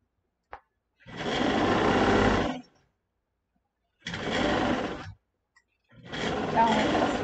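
A sewing machine runs a zigzag stitch in three separate bursts, each lasting one to two seconds with short pauses between, close and fairly loud, sewing a fabric arm shawl.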